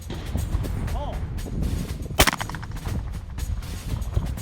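A single sharp shotgun blast cracks out at a trap and skeet range on a military base in Indiana, loud and close, with voices talking before and after it over outdoor background noise.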